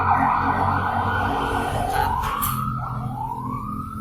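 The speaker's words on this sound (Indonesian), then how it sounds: "Maaf, ada suara ambulan." An ambulance siren passes outside, its wail sweeping upward in repeated rising glides over a low traffic rumble, moderately loud and slowly fading toward the end, with no one speaking.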